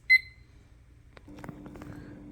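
A white stovetop kitchen timer gives one short, sharp beep in a quiet kitchen, followed by faint clatter and soft background noise.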